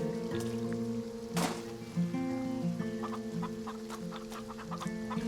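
Chickens cluck softly in a pen in the farming game Farm Together, short scattered clucks over a steady ambient music bed, fairly quiet and with no talking.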